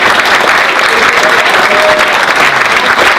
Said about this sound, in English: please give our representatives a round of applause